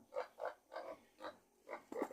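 A pig being fed grunts in a short series of about six soft, rhythmic oinks, faint and somewhat distant, evenly spaced with no talk.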